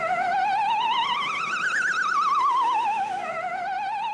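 A loud, close electronic siren wails with a warbling pitch that rises to a peak and then sweeps back down, sounding continuously with no voices over it.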